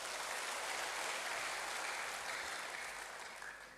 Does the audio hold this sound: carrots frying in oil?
no